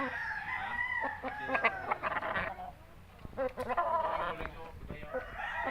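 Chickens cluck and squawk in irregular bursts nearby, busy and overlapping, with a few brief louder calls among the flock.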